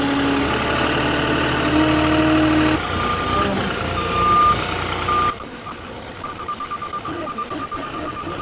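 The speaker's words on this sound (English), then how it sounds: "I'm driving a Spider today, also known as a Moffett." A Moffett Spider truck-mounted forklift runs its mid-pitched engine close by while steady reversing beeps repeat throughout; the engine note drops and the beeping continues more faintly as it idles down.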